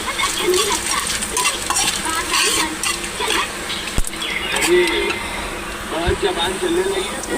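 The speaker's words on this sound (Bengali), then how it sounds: "জিরেটা হালকা একটু ভেজে দিলাম" Cumin seeds fry in oil with bay leaf and dried chili for green banana kofta, a close, continuous crackling sizzle with stirring scrapes and a couple of sharp utensil taps, a voice speaking softly under it.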